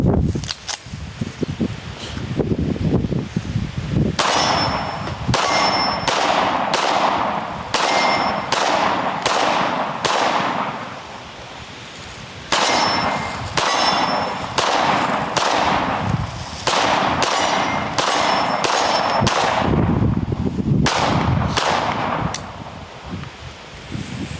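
Gunshots from pistols, including a 1911-style handgun, and pistol-caliber carbines at an outdoor shooting range, loud sharp reports in rapid strings with short pauses, steel targets ringing after hits.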